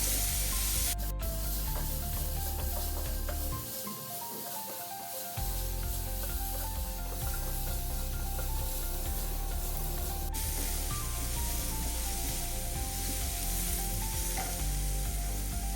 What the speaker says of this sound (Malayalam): കുറച്ച് ഉപ്പിട്ട് കൊടുക്കാം നല്ലവണ്ണം വഴറ്റിയെടുക്കാം